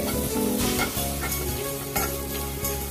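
Masala with grated coconut sautéing on low heat in a pan, a steady soft sizzle with faint stirring scrapes throughout, no voices.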